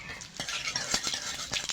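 Radhuni seeds tossed into hot oil in a kadai and stirred with a utensil, giving a steady hiss broken by several sharp scraping clinks against the metal.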